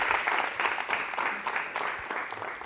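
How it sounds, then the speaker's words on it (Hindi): Loud applause from an audience of young students at a Swachh Bharat and youth event, a short burst of dense clapping with uneven swells throughout. "तो एक बार पूरे इस कार्यक्रम के लिए जोरदार तालियां देकर आप प्रारंभ करें।"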